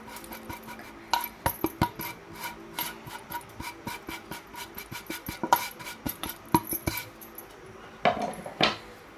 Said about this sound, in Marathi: आणि छान असं परतून घेऊ